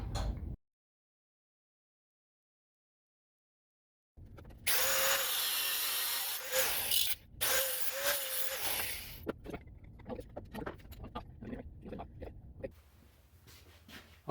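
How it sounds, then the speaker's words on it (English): A 5/16 inch bolt is cut to length with a power tool after a short silence, a loud grinding burst with one brief break, followed by quieter scraping and clicking handling noises. "screwed in a 5/16 inch bolt that I know is going to be too long. So we're going to cut it to length."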